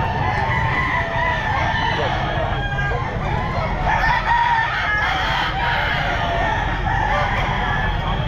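Roosters and hens at a busy outdoor pet market selling gamefowl, including a Boston sweater rooster, cluck and crow amid constant crowd noise and nearby talk.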